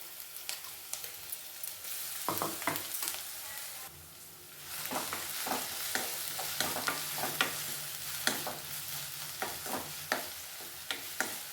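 Ground green chili paste frying over low heat in a pan for a daily chutney, a faint continuous sizzle broken by repeated soft stirring and scraping taps, close and without talk.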